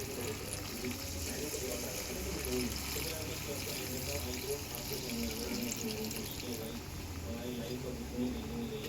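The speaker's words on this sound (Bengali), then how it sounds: "আমি জল দেব না, এর মধ্যে পুরোটাই দুধে হবে। আমি এর মধ্যে দুধ দেব।" Boiled, cooled milk being poured into a pan for paneer rezala, a steady running liquid sound over a low background hum, continuous throughout at moderate level.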